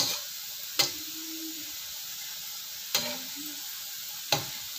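Potatoes frying in a pan, with a steady soft sizzle broken by three sharp utensil clacks and brief scraping as they are stirred.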